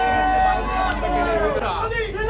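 Dense crowd at Dum Dum railway station in Kolkata, a continuous murmur of many voices close around, with a nearer voice speaking over the babble.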